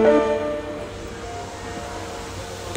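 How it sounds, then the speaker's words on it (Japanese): An Osaka Metro Tanimachi Line train rolls into Tanimachi 4-chome station with a fading high mechanical whine over a low rumble, ending in a sharp clack. "一番線に八尾南行きが到着します。"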